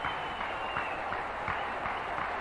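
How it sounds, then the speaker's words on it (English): Applause from the cricket crowd in Sharjah for a teenage Tendulkar at an India versus Pakistan one-day match in 1991, a steady, dense, distant wash of clapping that stays even throughout. "Listen to the applause, and he deserves"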